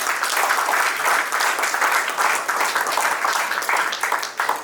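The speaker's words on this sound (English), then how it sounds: "have a big round of applause." Dense audience applause fills a ceremony hall at the Indian Medical Association branch inauguration in Ulwe, steady and loud throughout with many overlapping claps.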